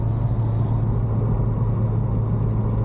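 A Chevelle with a new powertrain rumbles while being driven home, a steady, loud, low engine drone filling the cabin throughout, with no talk.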